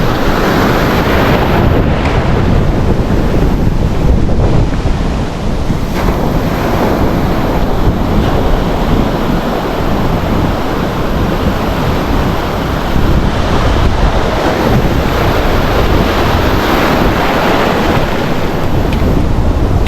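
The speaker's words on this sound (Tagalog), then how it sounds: "Oh, grabe laki ng alon." Heavy surf from large ocean waves roars continuously, mixed with loud wind buffeting the microphone, a dense rushing wash with no voices.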